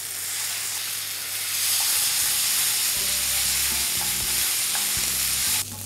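Sun-dried tomatoes, sausage and mushrooms stir-frying with seasoning in a hot pan, a steady close hiss and sizzle broken by regular scraping and tossing strokes, with no talking.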